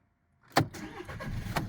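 Used car engine being started, a brief sharp crank followed by a low rumbling catch and a short burst of running, heard close and fairly quiet, with no voices.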